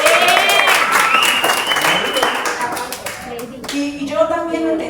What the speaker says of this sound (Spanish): Un aplauso para Julián